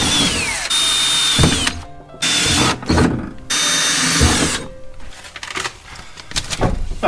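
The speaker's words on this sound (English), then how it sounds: "I'll drill the holes and get that all situated there. So let's get to drilling." A power drill bores holes for mounting an accelerator pedal, loud close whirring bursts that start and stop several times, ending with ratcheting clicks and handling noise.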